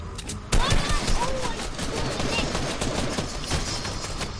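Gunfire in the video game Fortnite. A sudden, loud burst of rapid shots opens the clip, then continues in a dense chatter of fire mixed with other game sounds, with voices faintly present underneath.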